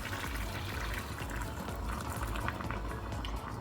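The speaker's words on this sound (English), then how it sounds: "Next we're going to add in the remaining hutki water." Hutki (dried fish) soaking water poured into a pot of Bengali muki dhaal, a steady continuous liquid splash and bubbling that runs unbroken throughout, close and fairly loud with no talking.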